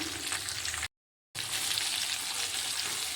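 Ridge gourd peel sautéing in a pan, a steady close sizzle and fry with faint stirring, cut by a brief dropout of silence before the frying resumes at the same level.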